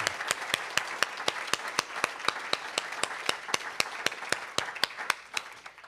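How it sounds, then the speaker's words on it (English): Applause from an audience at a faculty reading, a steady run of sharp individual claps standing out above softer crowd clapping, fading slightly toward the end. "Some more applause for Eileen Myles, please"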